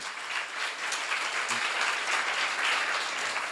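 A seminar audience bursts into steady applause, dense clapping sustained at moderate volume throughout with no speech over it.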